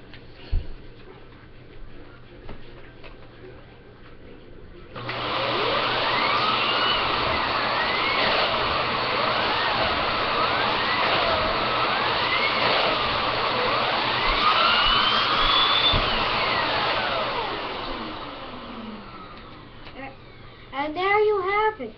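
A vacuum cleaner with a turbo brush roll picking up baby powder whirs loud and steady for about thirteen seconds, starting abruptly and winding down; someone talks before it starts and again briefly at the end.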